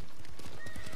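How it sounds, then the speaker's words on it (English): A horse in the video game Ghost of Tsushima, heard as loud, rapid hoof clip-clops with a whinny over the top, close and continuous for a brief moment. "Gotta calm my horse."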